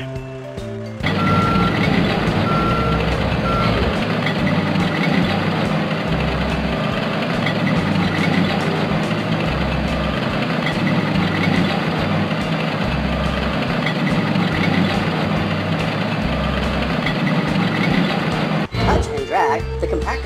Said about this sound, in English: Tap the blue button in the upper right to call the compactor truck.